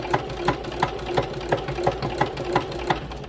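Home sewing machine stitching fabric postcards at slow speed with the pedal nearly full, a steady run of evenly spaced mechanical thumps about three per second, close and alone.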